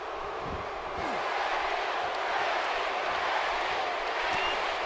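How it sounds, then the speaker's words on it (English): Arena crowd noise from a WWE 2K wrestling video game match, a steady, dense roar of cheering that holds at an even level throughout, with a voice talking over it. "Crowd still cheering for the hardcore champion"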